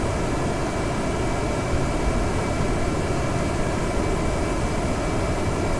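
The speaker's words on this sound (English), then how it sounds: "Let's add the second engine and get this thing moving." Steady, loud roar of rocket engines firing in Kerbal Space Program, a dense continuous broadband rush with no breaks across the whole stretch and no talking.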